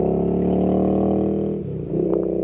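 A Royal Enfield Interceptor 650 motorcycle fitted with an S&S Qualifier 2-into-1 race exhaust revs loudly nearby, holding a throaty idle-to-rev drone before the pitch dips and climbs again, with no talking.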